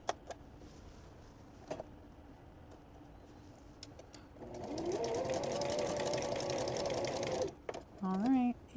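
A sewing machine stitches cotton wipes, with quiet handling clicks at first, then a steady, moderately loud whirring run of about three seconds that stops, followed by a brief rising mechanical whine.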